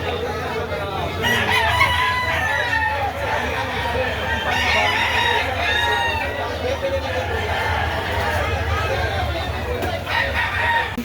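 Several roosters crow repeatedly over a constant crowd murmur and scattered clucking, with people talking nearby at a busy outdoor poultry market.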